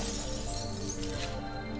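Window glass shattering in the video game Dracula's Legacy, a single crash with brittle fragments trailing off, fairly quiet and heard alone.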